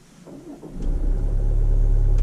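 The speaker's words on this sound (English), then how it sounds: "let's start up the car" An old Range Rover engine starts: a short crank, then the motor catches and settles into a steady, close, rumbling idle that grows louder.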